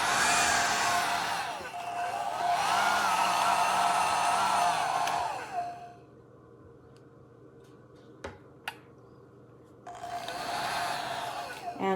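Revlon One-Step Volumizer ionic hair dryer with a suspected internal short, its loud whooshing blow cutting out for several seconds with faint crackles before the airflow roars back, alone without talk.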